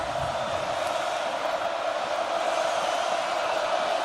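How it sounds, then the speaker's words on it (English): Stadium crowd at Kinnick Stadium during an Oregon vs Iowa college football game, a constant broad roar of many voices trying to get loud for the defense, sustained and even throughout. "Kinnick crowd trying to get loud for their defense"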